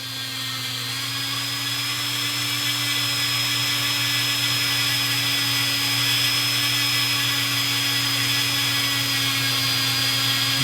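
Power tool polishing Glock trigger parts, a steady high whine holding constant and loud throughout with a faint tonal hum beneath, no speech.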